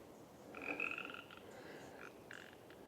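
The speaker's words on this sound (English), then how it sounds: "It's so warm out, there's still frogs around." Tree frogs croak outdoors on a warm autumn day, a few raspy calls repeating at a steady, moderate level over a soft wash of background noise.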